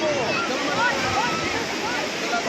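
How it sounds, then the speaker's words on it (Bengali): Ocean surf at Puri beach makes a continuous, broad rushing roar close by, with people's voices faintly audible beneath it. "এখন চলে এসেছি বিচে স্নান করতে"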